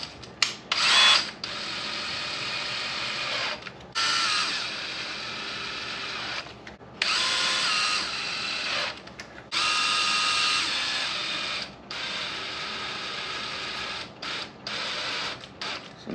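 A power drill drives screws into an RC car, several short bursts of whirring motor separated by pauses, close and fairly loud, alone without talk.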